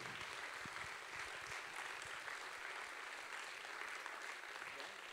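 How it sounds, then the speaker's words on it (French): A festival closing ceremony audience gives a film award winner a sustained round of applause, dense and even clapping filling the hall for several seconds. "Pierre Pézra, vous pouvez l'applaudir encore une fois."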